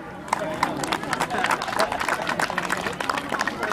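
Audience clapping at a Magar community fair's Bhume Puja celebration in the UK, a dense patter of many hands, fairly close, with crowd chatter mixed underneath.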